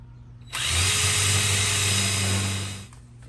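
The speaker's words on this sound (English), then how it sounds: "you can then pre-drill each of your holes" A power drill whirs up sharply, runs at a steady high pitch for a couple of seconds while pre-drilling a hole in wood, then winds down; close and loud.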